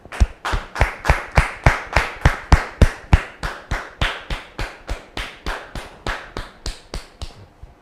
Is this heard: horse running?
no